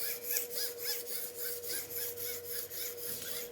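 A pair of badly damaged shears being ground heavily on a knife sharpener to remove a lot of metal, a steady run of repeated rasping grinding strokes over a constant motor hum, close and continuous.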